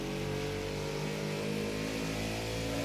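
A racing car's engine in Project Cars 2 holds a steady, buzzing drone during a heel-toe downshift, its harmonic whine sustained and fairly loud throughout, alone without talk.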